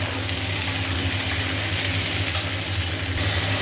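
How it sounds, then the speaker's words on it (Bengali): Spices frying in a pan with tomato and ginger paste, a steady close sizzle with low hum underneath, continuous and even with no talking. "আর এটা ভালো করে ভাজা হোক"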